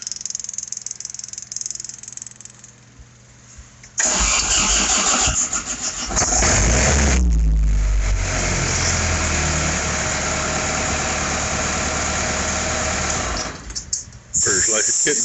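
A 4-cylinder Isuzu diesel engine on a big air compressor cranks, catches with a loud rumble and settles into a steady, close idle, with people talking over it.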